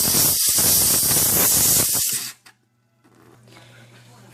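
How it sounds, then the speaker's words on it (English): McCulloch MC1385 canister steam cleaner releasing steam, a loud, steady, close hiss lasting about two seconds before cutting off abruptly, followed by a quiet low hum. "I can show you the steam power that's coming from this, because it really is quite remarkable."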